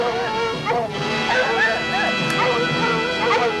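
Small pet dogs named Fluffy and Puff yapping and whimpering in quick high-pitched bursts, close and continuous, over a busy background of voices and music.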